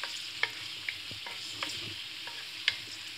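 Ginger and tomato frying lightly in a pan for Afghani-style daal mash, a steady bright sizzle broken by a few crisp spatters and pops, close and alone.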